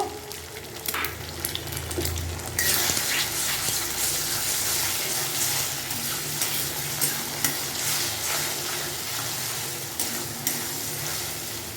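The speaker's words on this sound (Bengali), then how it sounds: "ডিমটা আমি এই তেলের মধ্যে দিয়ে দিচ্ছি। দিয়ে ডিমটাকে ভালো করে ভেজে নেব।" Eggs sizzle and spit steadily in hot oil, a loud continuous crackle that swells after a quieter start, with occasional clinks of a utensil.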